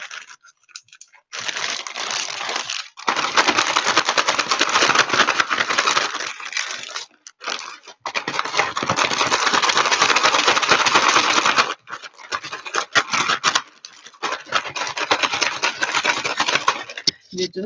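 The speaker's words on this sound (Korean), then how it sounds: "이 지퍼팩 상태에서는 주무르지 마시고 그냥 흔들어만 주세요" Homemade soap mixture being shaken inside a plastic zipper bag, loud crinkly rustling in long vigorous bursts separated by brief pauses, close by.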